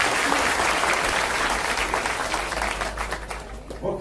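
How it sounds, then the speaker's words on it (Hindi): A large crowd applauds continuously at a public event where agriculture minister Kamal Patel hands over tractors to women's self-help groups, a dense wash of clapping that stays loud before thinning slightly at the end. "सब खुश हो, जोरदार ताली बजा देगा।"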